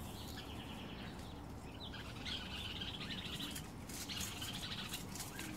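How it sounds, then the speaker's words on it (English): Backyard garden birds on a summer evening chirp and squabble in busy overlapping tweets and sharp calls, mid-distance, over a constant low outdoor rumble with no talking. "The birds are like fighting this evening."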